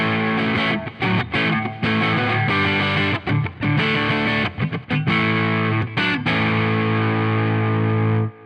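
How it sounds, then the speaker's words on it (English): EBMM Sabre electric guitar on its neck pickup playing a low-gain, lightly overdriven tone through effects, with steady sustained chords and short choppy breaks, loud and close with no talking. "This really nice low gain sound."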